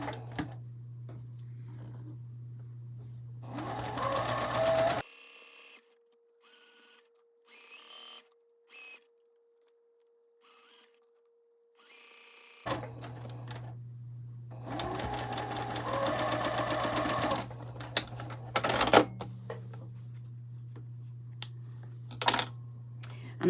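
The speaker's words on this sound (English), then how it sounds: "I'm just going to finish pinning this one on and then sew it on." A sewing machine stitches borders onto a heart-block mini quilt in two loud, steady bursts of fast mechanical whirring, split by a quiet pause with faint handling sounds, then a few short stops and restarts.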